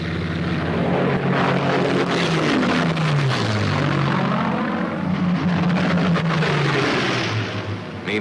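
WWII Mustang fighter planes escorting bombers, with a loud, continuous propeller-engine roar whose pitch sweeps up and down as aircraft pass and weave overhead.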